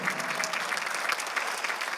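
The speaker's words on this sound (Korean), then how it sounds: "박수를 치며 하나님께 올리세요." A Korean church congregation claps in worship, a steady, dense patter of many hands filling the room at moderate volume with no talk over it.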